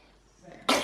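A sudden, sharp burst of breath near the end, like a single sneeze, following quiet murmuring.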